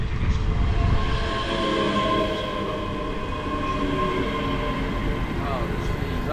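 A ScotRail Class 385 electric train pulls into a station platform on the Edinburgh to North Berwick line. Its wheels and motors give a loud, steady rumble that eases slightly as it slows, with faint squeals near the end.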